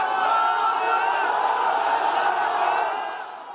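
A crowd at an earthquake rescue site erupts in cheers and shouts as a family is pulled from collapsed rubble, a dense, sustained roar of many voices that fades slightly toward the end.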